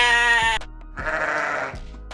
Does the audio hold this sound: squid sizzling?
no